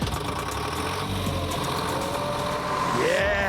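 A vintage tractor engine runs in a steady, continuous low drone, close and fairly loud, holding its level throughout with a faint rising whine near the end.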